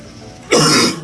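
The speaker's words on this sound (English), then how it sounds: "Let me get all my coughing out now." A single harsh, close throat-clearing cough bursts out abruptly after a quiet moment and lasts about half a second.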